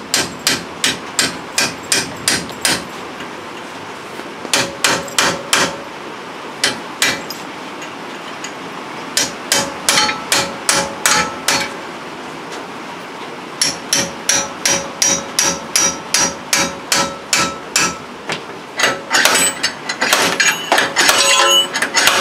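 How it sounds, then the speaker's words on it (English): Hammer blows driving a chisel to wedge a gap apart, sharp metallic strikes in quick bursts of several hits separated by short pauses, close and loud with no talking. "I'm just trying to use a chisel to help wedge it apart a little bit here"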